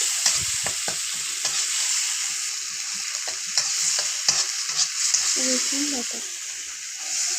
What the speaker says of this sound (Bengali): আবার একটু খুন্তির সাহায্যে নেড়ে নেব এবার আমি অ্যাড করব আদার পেস্ট